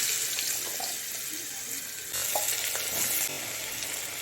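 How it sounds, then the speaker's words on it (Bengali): Steady sizzling of potato pieces frying in hot oil fills the clip, with light clatter of stirring and no voices. "দিয়ে এবার আলুটাকে একটুখানি ভেজে নেব"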